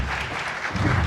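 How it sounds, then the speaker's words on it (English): Dense applause from an audience at a dinner awards roundtable, steady and fairly loud through the short stretch, swelling slightly near the end. "Let's give these ladies a big round of applause."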